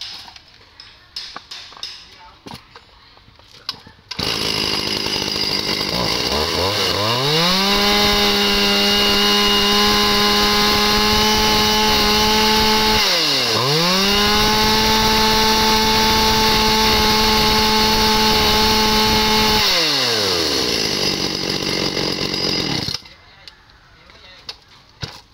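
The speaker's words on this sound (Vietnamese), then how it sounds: "T2 là con Shindawa 480 nha anh em, dòng cưa khai thác nha." Shindaiwa 480 logging chainsaw, 48cc, revving up loud and close, holding a high steady whine, dropping briefly and climbing back before cutting off, with quiet handling noises before and after.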